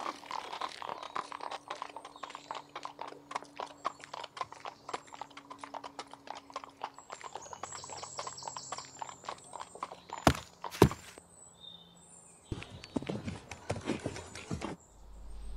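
Hooves of horses pulling a carriage clip-clop in a steady, close walking rhythm through most of the stretch, broken near the end by a couple of sharp knocks and a louder rustling passage.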